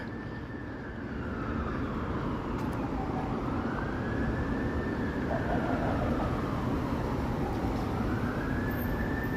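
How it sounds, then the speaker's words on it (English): Emergency vehicle sirens wail, rising and falling in long sweeping cycles, steady and fairly distant over a constant rumble of Toronto city traffic at night. "I hear sirens."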